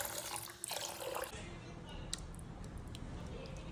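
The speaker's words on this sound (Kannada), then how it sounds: "ನೀರು ಹಾಕಿ ವಾಶ್ ಮಾಡಿ ಸೋಕ್ ಮಾಡುವ." Rice is washed in a container up close, the water swishing and splashing softly, then settling into a quieter trickle.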